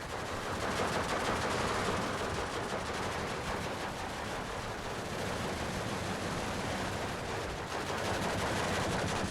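Dense, continuous rattling automatic gunfire rolls on in the Steel Division II World War II strategy game, steady and loud with no pauses.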